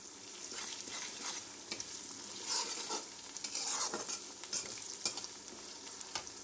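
Curry leaves crackle and fry in hot oil, a dense steady sizzle with scattered brighter pops and a few stirring scrapes, close and fairly loud with no voices.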